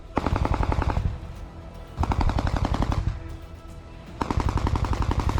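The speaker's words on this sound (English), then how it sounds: "An APC passes through the tree line and fiercely fires at Ukrainian trenches while simultaneously unloading infantry." An armored personnel carrier fires on trenches in combat, sending loud, rapid bursts of heavy automatic gunfire in three long strings separated by short pauses.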